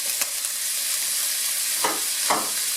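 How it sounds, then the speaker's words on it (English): Garlic and chopped onions frying in a hot pan for fried rice noodles, a loud, steady hiss of sizzling oil up close with a few brief stirring scrapes. "Make sure your pan is hot. Put some garlic. 4 bulbs of garlic and some chopped onions."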